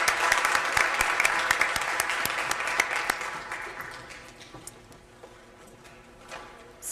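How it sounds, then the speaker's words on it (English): Applause from an audience at a school board meeting, a dense patter of many hands clapping at moderate distance that gradually thins out and fades over several seconds. "Let's have a round of applause"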